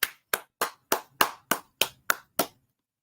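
A single pair of hands clapping nine times in an even, deliberate rhythm, each clap sharp and close with a brief decay, then silence.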